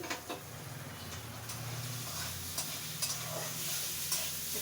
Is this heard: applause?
no